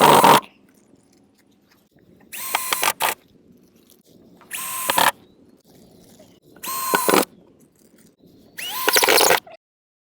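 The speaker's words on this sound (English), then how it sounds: "So now I'm going to grab my drill" A cordless drill whirs in five short bursts driving screws into a heavy-duty wooden patio planter, each a second or so long, separated by quiet gaps, close and loud.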